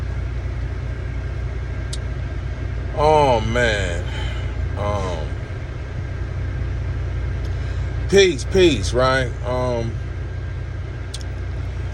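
A parked vehicle's engine idles with the air conditioning running on a hot day, a steady low rumble and fan hiss throughout, while someone talks over it.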